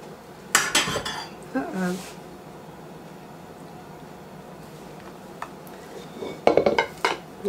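Banana pudding scraped out of a big bowl with a spoon, heard as clattering, clinking scrapes in short bursts near the start and again near the end, with quieter stretches between.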